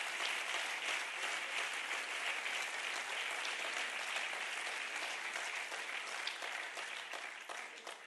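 Steady applause from a party congress audience fills the whole stretch, dense and even, easing slightly near the end with no voices over it.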